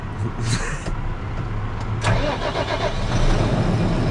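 A tractor engine cranks with the key and catches, then settles into a steady idle rumble with faint clicks and whirs, close by.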